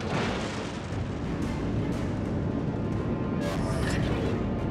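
Heavy naval gunfire from the battleship Ohio in World of Warships, a dense, continuous roar of booming shots and explosions as an enemy warship is destroyed, loud and close throughout.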